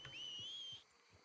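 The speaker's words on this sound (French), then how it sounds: "S'il me dit de siffler trois fois," One clear, sustained whistle in Red Dead Redemption sounds at a fairly steady pitch for under a second, then stops, quiet and alone without speech.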